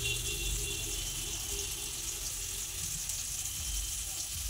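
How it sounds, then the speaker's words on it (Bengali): Food fries in a pan on a gas stove, making a steady, even hiss that runs unbroken for a few seconds, with no voices over it. "একটু সময় লাগবে এটা ভাজতে।"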